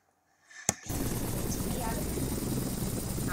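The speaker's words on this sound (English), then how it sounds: "here we are playing some FSX with a helicopter" A helicopter in Flight Simulator X (FSX) gives a steady, loud rotor and engine roar after a sharp click, with a dense, continuous drone throughout.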